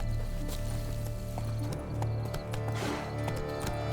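Horse hooves pounding in The Witcher 3 video game, a fast steady clip-clop gallop close up over a low continuous rumble, with brief clinks and rustles of tack.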